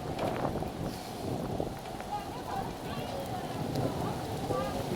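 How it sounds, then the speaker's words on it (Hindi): Heavy storm rain pours steadily down, a dense, continuous hiss with splashing from a drainpipe, as children play and bathe in it nearby; voices are audible over the downpour. "बच्चे कितने खुश हैं आज बारिश में"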